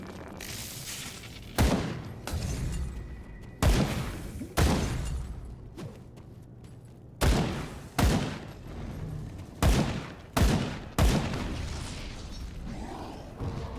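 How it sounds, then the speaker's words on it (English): Gunfire in the action RPG Grim Dawn: a series of sharp, loud shots in irregular bursts, each with a booming tail, over a steady background of game music and ambience. "Wait, I'm shooting you."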